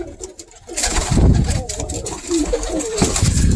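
Pigeons coo in low, throaty bursts at close range, with rustling and a voice talking now and then in between.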